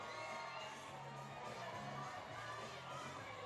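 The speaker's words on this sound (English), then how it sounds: "You can see the crowd sort of wanting to get excited" Spectators at a women's lead climbing World Cup final in Briançon, a faint, distant murmuring crowd with scattered shouts and cheers, steady throughout at low level.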